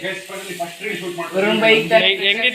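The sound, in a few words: fish frying on a tawa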